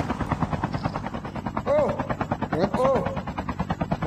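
Rapid bursts of automatic gunfire crackle in a Call of Duty Mobile match, a quick rhythmic string of shots that sounds somewhat distant, with a few whooshing game effects layered over the firing.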